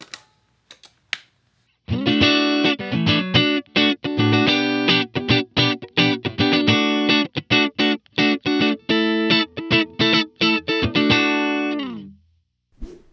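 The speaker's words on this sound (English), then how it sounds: "I'm going to kick off the reverb and delay and just get that choppy staccato thing." Electric guitar with reverb and delay switched off plays a tight, choppy staccato rhythm, the short dry strums cut off sharply one after another for about ten seconds, loud and alone.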